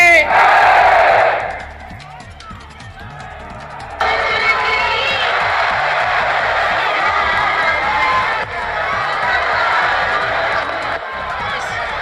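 A large crowd at the Ayodhya Deepotsav chants "Siyavar Ramchandra ki" in loud massed shouts, a led call followed by sustained, far-reaching crowd roar with repeated rhythmic pulses.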